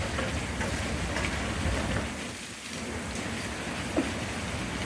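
Steady, heavy rain falls in Texas during Hurricane Beryl, a dense continuous hiss with a slight lull midway and a faint thump near the end.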